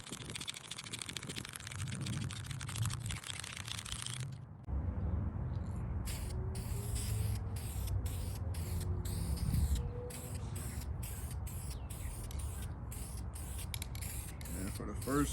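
VHT high heat ceramic header paint hisses from an aerosol can in a long continuous burst, followed by quieter shaking and short rapid spray pulses, with someone talking over the later part.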